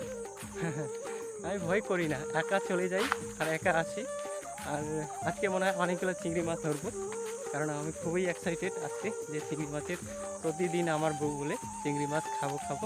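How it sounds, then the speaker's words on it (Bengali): Crickets trill steadily in a quiet forest near a river, a continuous high buzz that runs beneath someone talking throughout. "শুধু ঝিঝি পোকার ডাক"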